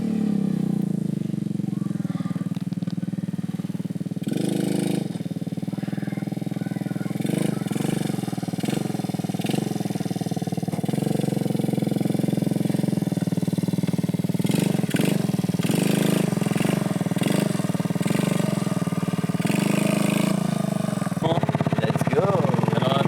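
The engine of a cheap 100-euro quad bike fires up and revs repeatedly in a rough, uneven drone with bursts of throttle, while people talk over it nearby.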